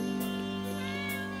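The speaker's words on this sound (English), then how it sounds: "A cat." A cat meows in the video game Dream Drift, inside a quiet apartment, with three short soft calls evenly spaced over steady background music or ambience; no one speaks.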